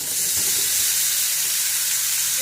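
Chicken pieces sizzling in hot leftover grease in a pan, a steady, dense hiss that stays loud and unbroken throughout with no voices.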